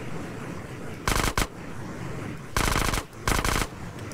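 Automatic gunfire from a San Andreas Left 4 Theft Auto zombie mod plays as three loud, rapid bursts separated by short pauses, the last two longer and closer together, with no talking.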